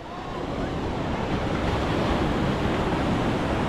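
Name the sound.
ocean waves on Lombok beach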